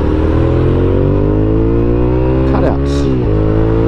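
A Gen 2 Suzuki SV650 motorcycle engine pulling hard under acceleration, a loud close steady drone that rises in pitch, with a brief shift near the end and a voice speaking over it.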